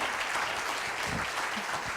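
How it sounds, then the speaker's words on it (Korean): After a lecture at a company humanities concert, an audience applauds with dense, steady clapping that fills the room. "여러분 큰 박수 부탁드립니다"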